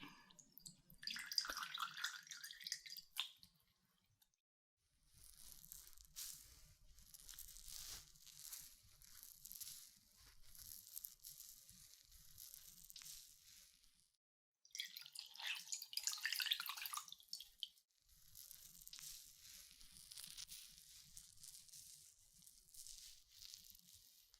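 Warm water dripping and trickling during an ear-cleaning roleplay, soft close-up splashes in separate bursts with quiet gaps between them, faint and intimate.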